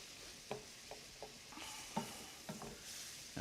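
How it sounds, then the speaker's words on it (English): Roux and chicken broth being stirred in a sizzling pan, a steady frying hiss broken by short scraping strokes of the spoon at an uneven rhythm, close and fairly quiet with no talk. "I'm going to stir that all good."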